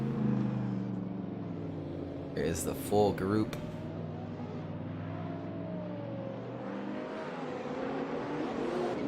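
Drift cars in a sim racing game roar past during qualifying at Manfeild, engines revving and passing under steady commentator talk.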